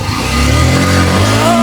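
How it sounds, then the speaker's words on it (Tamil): A motorbike engine revs steadily as the accelerator is held open, a loud continuous drone whose pitch climbs slightly toward the end, close by and with no talking. "Okay, accelerator அமுக்குங்க."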